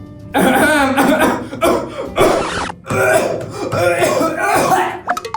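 A person coughs hard several times in quick, raspy bursts, loud and close, with throat-clearing sounds between fits.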